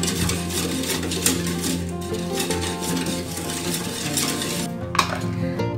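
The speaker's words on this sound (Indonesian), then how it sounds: "Kita aduk-aduk lalu kita didihkan." A spoon scrapes and clinks against a pot while a pandan pudding mixture is stirred, producing continuous close-up scraping with a few sharper metallic knocks and no speech.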